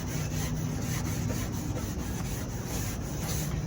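Steady scraping and rubbing of a grill brush scrubbing the grates of a propane gas grill, a continuous close bristly scrub with no talk.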